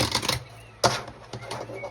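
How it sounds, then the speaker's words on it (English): Playing cards are riffled and shuffled close by in a few quick crisp bursts of snapping and fluttering. "Let's give it a good shuffle."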